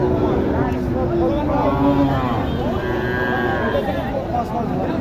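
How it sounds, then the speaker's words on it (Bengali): Sahiwal and Gir cattle moo loudly in long, drawn-out calls nearby at a cattle market in Naogaon, Bangladesh, while people talk in the background. "আটটা গরু নিয়ে আসছে"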